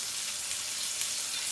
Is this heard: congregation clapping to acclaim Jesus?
no